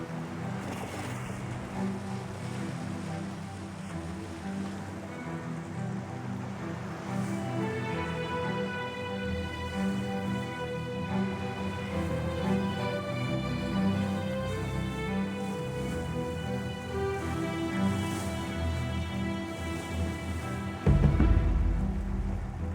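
A handbuilt sailboat out on the open sea, with a steady wash of waves and wind surrounding the hull and a low rumble underneath, continuous and fairly close, plus a louder splash near the end.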